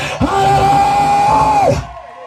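A long, sustained joyful shout rises sharply, holds steady for about a second and a half, then breaks off, loud and close, from a religious family-deliverance gathering in Manyara, Tanzania.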